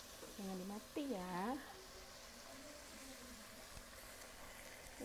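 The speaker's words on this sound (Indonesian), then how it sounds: "di sini saya menggoreng cabenya" Chili peppers frying in a pan for Minang-style fish balado, a faint steady sizzle running throughout beneath a baby's fussy cries and vocal sounds near the start.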